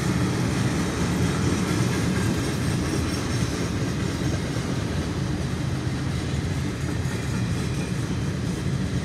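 A CSX eastbound mixed freight train rolls steadily past, its gondola and hopper cars producing a continuous loud rumble with rail clatter, close by and without any talk.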